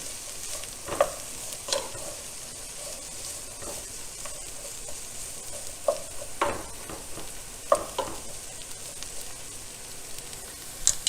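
Red peppers, carrots and broccoli stirred in a sizzling pan, with steady frying hiss beneath a series of short utensil scrapes and clacks at irregular intervals, close and moderately loud, with no talking.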